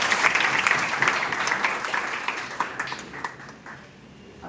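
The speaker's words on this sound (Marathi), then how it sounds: "तिच्यासाठी एकदा जोरदार टाळ्या." An audience at a school event distributing uniforms and study materials to needy students breaks into sustained applause, dense clapping from many hands that fades gradually over a few seconds.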